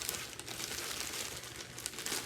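A Tourna grip package being opened by hand, its plastic wrapping giving off continuous close crinkling and crumpling with a few sharper rustles, quiet and without talk.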